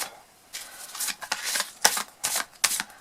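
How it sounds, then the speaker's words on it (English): Playing cards are shuffled overhand close up, a run of quick papery slaps and riffles in uneven bursts. "Overhand shuffling, not a problem."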